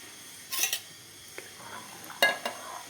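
A metal spoon scrapes and clinks against a pot in a few short bursts as ground masala is stirred into a seven-vegetable kootu, with faint sizzling underneath and no voices.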